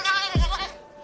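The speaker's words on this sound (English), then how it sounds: "The strong-willed goat." A goat born on only two front legs bleats loudly and close, one wavering nasal cry followed by the start of another.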